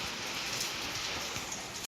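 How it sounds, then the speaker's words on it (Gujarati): Steady rain falling outdoors, an even, dense hiss of drops on surfaces that holds constant throughout with no voices. "બહાર તો જો વરસાદ ચાલુ જ છે"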